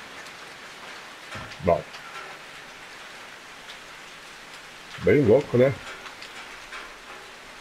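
Steady rain hiss of the blood rain in the game Outlast 2 runs throughout at moderate level, with someone speaking briefly twice over it.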